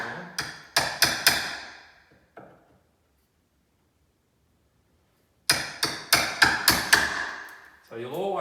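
A hammer taps a chisel into a wooden entrance door while a lock is fitted. Two bursts of sharp, rhythmic, ringing strikes come close and loud, separated by a silent pause, and a voice speaks at the end.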